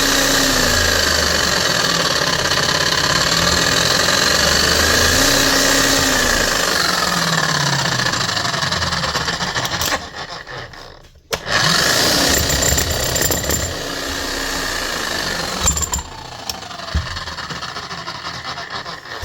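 A repaired Bosch hammer drill runs loud and close, its motor roar and hammering mechanism sustained, with a brief drop in speed partway through before it climbs back to a steady full-speed drone.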